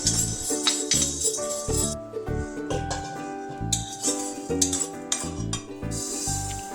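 Black peppercorns being dry-roasted in a pan for homemade kulambu spice powder, with metallic clinks and scrapes of a spoon against the pan in an irregular rhythm and a faint sizzle underneath, close and moderately loud.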